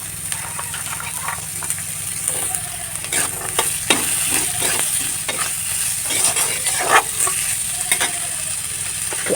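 Chopped potatoes go into frying suji upma and are stirred, loud clattering spoon scrapes over a continuous close sizzle, with no voices.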